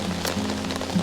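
Heavy rain pattering steadily on a hammock camp, a continuous hiss of drops with a low steady hum underneath, close and even throughout.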